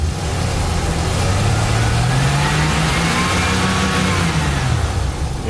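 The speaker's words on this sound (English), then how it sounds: "it revs through the RPMs nicely" A service truck engine revs up steadily through its RPM range and settles back, loud and close with a continuous rising-and-falling drone and no voices.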